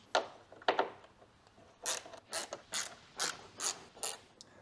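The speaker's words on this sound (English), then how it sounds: "So then we're going to remove all the torque screws." Torx screws being backed out of a BMW M2 front bumper, a series of close ratcheting clicks and short grinding bursts in a fairly even rhythm, quiet and with no talking.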